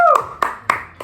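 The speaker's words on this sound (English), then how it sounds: "A big applause, please." A few separate hand claps, about four sharp slaps spaced evenly, close and loud, greeting a guest on a podcast set after a faint tonal sound at the start.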